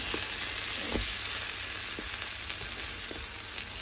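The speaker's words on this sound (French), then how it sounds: "Voilà ce que ça donne à la cuisson. Vous les laissez sur feu moyen." Turkish gozleme flatbreads cook on medium heat in a pan, giving a steady, loud frying sizzle throughout with a few faint knocks and clicks underneath.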